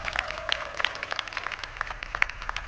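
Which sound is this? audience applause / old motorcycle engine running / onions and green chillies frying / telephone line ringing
audience applause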